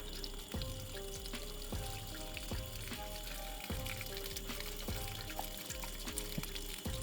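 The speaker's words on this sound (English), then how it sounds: "we're going to just pour a whole pitcher of water on top of them while it's on" A pitcher of water is poured over powered-on vehicle rock lights, producing a continuous splashing, sizzling pour with repeated low thumps and gurgles at regular intervals, close and fairly quiet.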